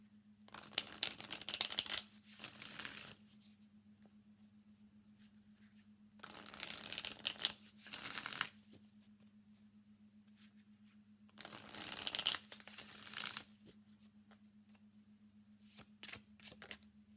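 A deck of Sacred Creator Oracle cards shuffled in three separate bursts of riffling and flapping, close and crisp, with quiet pauses and a steady low hum between.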